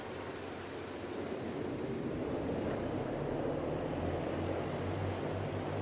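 A G-111 Albatross at full throttle in the video game MSFS 2024: a continuous, loud, dense piston-engine roar with a low droning hum, steady and unbroken throughout.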